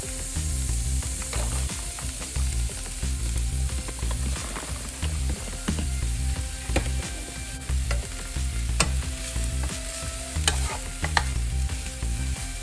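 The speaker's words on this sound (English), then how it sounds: "we've diced the onions, so we're putting those in now" Diced onions sizzle loudly in oil in a pan for meatball stroganoff while a utensil stirs and scrapes them in repeated rattling strokes, close and continuous with no talking.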